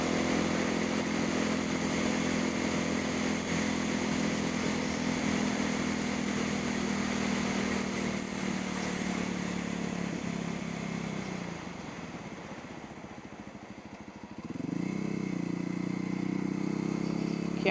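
A motorcycle ridden through traffic, its engine droning steadily up close, easing down toward idle, then revving back up as it pulls away.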